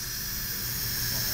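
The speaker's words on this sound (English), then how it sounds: "it takes a little bit to get all that steam out" Steady, loud hiss of steam escaping a pressure cooker's release valve after cooking corned beef and cabbage, a continuous broadband rush with no voices over it.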